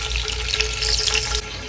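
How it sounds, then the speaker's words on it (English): Canned diced tomatoes pour into a pot for beef stew, making a steady, close, wet splashing and sizzling rush that eases slightly near the end. "We're going to add our diced tomatoes"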